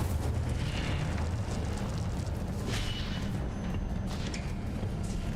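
Incendio fire spell from the video game Hogwarts Legacy, a dense roaring blast with whooshing bursts and rumbling low end, loud and continuous for several seconds with no talk.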